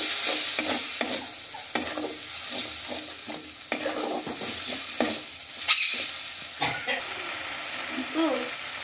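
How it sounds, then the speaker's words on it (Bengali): Spice paste with a little water sizzles and fries in a pan while a spoon scrapes and stirs in repeated strokes, steady and close. "অল্প জল দিয়ে মশলাটাকে আরও কিছুক্ষণ আমরা ভাজা করে নিচ্ছি।"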